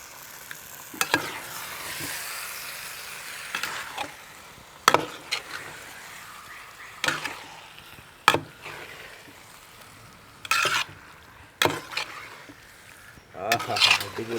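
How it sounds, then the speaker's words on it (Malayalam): Boneless chicken for karela gosht stirred in a hot cooking pan, with intermittent sharp scrapes and clacks of the spoon against the pan over a low sizzle, spaced irregularly, and occasional talk. "ഇനി നല്ലോണം ഇളക്കി മിക്സ് ചെയ്യാം"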